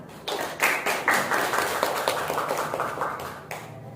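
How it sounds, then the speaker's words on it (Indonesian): Applause rises from an audience at an Indonesian school event, a dense patter of many hands clapping at moderate distance that swells and holds for about four seconds before thinning out. "Aplaus untuk Mira."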